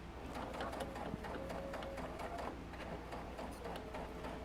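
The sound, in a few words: sewing machine stitching a puff quilt seam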